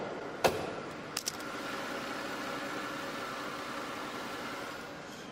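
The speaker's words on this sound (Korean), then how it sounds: "이 정도의 엔진 소음을 만나보실 수가 있습니다." A Mercedes-Benz E63 AMG from the fourth-generation E-Class idles with its hood shut, giving a faint, steady low hum. A few sharp clicks sound near the start.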